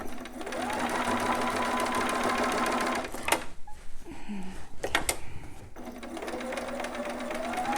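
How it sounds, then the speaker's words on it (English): A sewing machine stitches down the strap of a newborn romper in steady whirring runs, pausing briefly in the middle before resuming, close and moderately quiet. "I'm going to keep sewing all the way down the strap"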